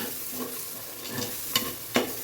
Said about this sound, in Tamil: இதுவும் இந்த ஆயிலே வதங்கட்டும்